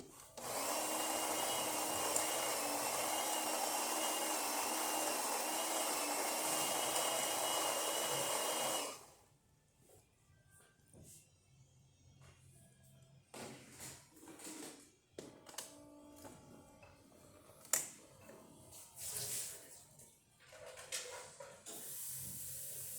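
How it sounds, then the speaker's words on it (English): A Saeco Pico Baristo espresso machine, freshly serviced, runs with a loud, steady hiss and whir for about nine seconds, then stops, leaving scattered clicks, clunks and faint mechanical knocks. "now we need an espresso shot"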